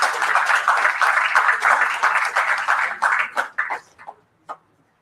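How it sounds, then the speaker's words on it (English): An audience at a live industry AI panel applauds the panelists, a steady wash of many clapping hands that thins into a few last scattered claps and stops. "Big round of applause,"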